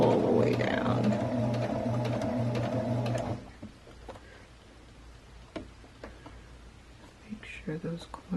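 Sewing machine stitching along the edge of a face mask with a filter pocket, a steady mechanical whirr for a few seconds that then stops, leaving soft handling of fabric and small clicks.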